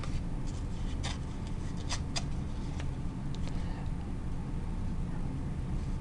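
A sheet of craft paper is torn in half by hand while making windows for a house collage, giving a few short, dry crackling rips up close over a steady low background hiss, with no talking.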